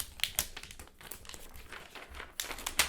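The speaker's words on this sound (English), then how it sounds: "I just love the sound of peeling plastic." Protective plastic film peeled off a Surface Pro 3 tablet, close crinkling and tearing crackles in short repeated pulls, soft but clear with no talking.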